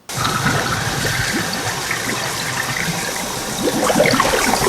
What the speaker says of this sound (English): this is followed by Alice taking a shower